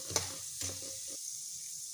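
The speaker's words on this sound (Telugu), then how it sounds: "బాగా మిక్స్ చేయాలి." Mustard seeds, cumin and spices stirred in a hot pan for lemon rice, with a steady high sizzle and two short scraping strokes early on, then only a quiet hiss; no talking.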